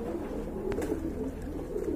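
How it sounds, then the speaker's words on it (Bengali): Pigeons cooing close by, a few soft low coos over a steady room hum, with a brief brighter call partway through; damachin pigeons kept for sale. "আর এখানে কিন্তু দুইটা কবুতর দেখতে পাচ্ছেন।"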